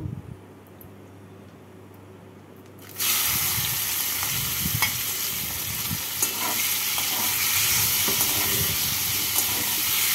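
Prawns drop into hot oil left from frying taro, and a loud, steady sizzle suddenly bursts in after a quiet start, with faint stirring crackles continuing close up.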